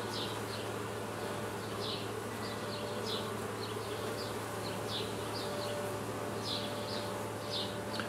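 Honey bees buzz at a hive during a robbing frenzy, with a dense, steady drone and individual insects zipping close by again and again, faint outdoor hum underneath.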